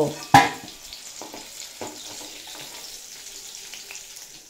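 Whole cumin seeds hit hot oil left from frying cauliflower, giving one sharp clatter and then a soft, steady sizzle with scattered crackles, close and fairly quiet.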